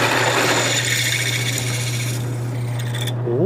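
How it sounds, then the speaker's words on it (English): A power drill whirs steadily with a low hum and a gritty rasp as it bores a hole into a kukri knife handle, then the pitch rises as it spins down. "so we're about to drill this hole"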